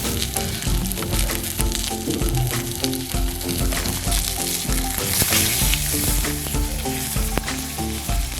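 Steaks fry loudly in a pan nearby, with a dense, continuous sizzle full of sharp spitting crackles and pops.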